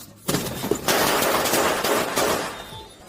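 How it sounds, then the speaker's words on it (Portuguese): Gunshots fired during a police encounter, a rapid volley of loud, close bangs packed into about three seconds, sharp and densely overlapping like a burst of fire. "Sim, temos tiros disparados."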